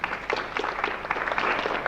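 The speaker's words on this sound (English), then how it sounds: "A little round of applause there" A small audience at a live afternoon radio show gives a short round of applause, steady scattered clapping carrying on without pause, with no one talking over it.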